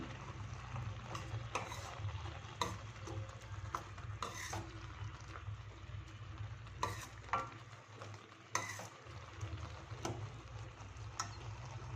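Carrot and pumpkin halwa bubbling and reducing in a pan, a steady low simmer with occasional soft stirring clicks, continuous and moderately quiet with no talking.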